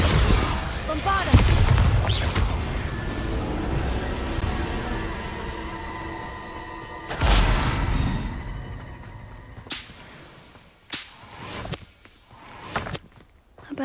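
Confringo and Bombarda spells go off in a video game as a series of booming blasts and crashing impacts, the loudest ones early and around the middle, with a voice calling out among them.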